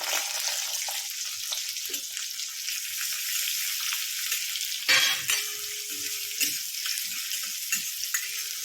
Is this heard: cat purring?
no